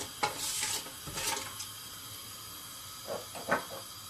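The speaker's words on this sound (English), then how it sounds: "I'm also adding little bit of shai jeera, around already 1 tablespoon to this. Just saute this a bit." Shahi jeera sautéing in a pan for vegetable biryani, a soft, low hiss with a few brief louder bursts of sizzle and stirring, fairly faint throughout.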